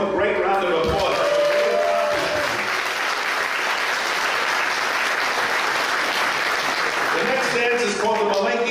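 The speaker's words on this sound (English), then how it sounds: "Give them a great round of applause." Audience applause fills the hall for children performing newly choreographed dances at a dance camp, steady and loud for most of the stretch, with a voice briefly audible at the start and the end.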